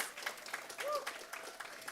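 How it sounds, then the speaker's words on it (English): Applause at the OCM Bocas Prize and Henry Swanzy Award 2024 announcement ceremony, a steady wash of clapping from an audience, fairly quiet and distant, lasting under two seconds. "Equal applause, equal applause."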